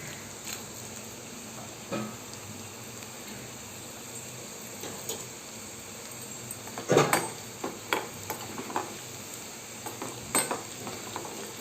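Garlic frying in oil with mustard seeds and cumin tempering for mango dal, a soft continuous sizzle broken by scattered sharp pops and spatters, along with a few spoon-on-pan clinks.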